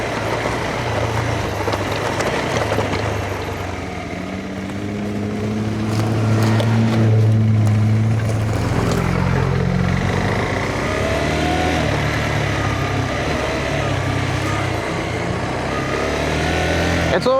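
Cars on a road through Bunyip State Park rush past at speed, a loud engine and tyre roar that swells and fades over several seconds before a steady traffic rumble continues.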